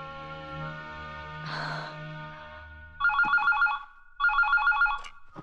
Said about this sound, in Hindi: सपना का फोन आया.